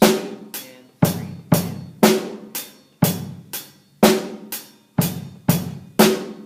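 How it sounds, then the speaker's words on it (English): Drum kit groove pairing bass kicks with eighth-note hi-hat strokes, a steady even pattern of crisp, close hits repeating for several bars without any voices. "now let's go to measure 4, where we add the eighth notes on the hi-hat"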